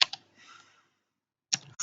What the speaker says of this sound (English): so I'm typing load